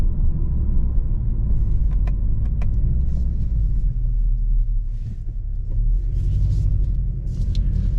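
Low, steady engine rumble from a 2023 Kia K5 GT sedan with GT1 package during a U-turn, heard from inside the cabin with a deep hum and faint ticks, no talking.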